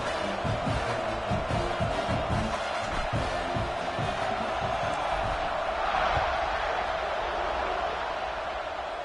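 A college football stadium crowd at a Georgia versus Alabama game roars with a dense, sustained cheer that fills the whole stretch, with rhythmic chanting underneath.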